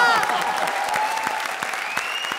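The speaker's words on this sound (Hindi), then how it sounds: "लेडीज एंड जेंटलमैन, जोरदार तालियां एक बार फिर" Studio audience applause on the Comedy Circus stage show: loud sustained clapping from a crowd with a bright musical tone playing underneath.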